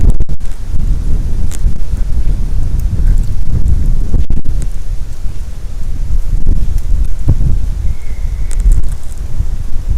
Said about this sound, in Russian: ветер поднимается еще больше.